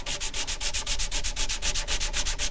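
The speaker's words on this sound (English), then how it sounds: "take sandpaper on a block. And sand it out" Walnut being sanded with sandpaper wrapped on a block, a loud, close, rhythmic scratching of quick back-and-forth strokes, evenly paced and alone.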